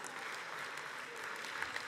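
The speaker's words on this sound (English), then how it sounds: "A little ripple of applause," A small conference audience at a WorldPride Amsterdam human rights event gives a faint, brief ripple of scattered clapping, thin and distant.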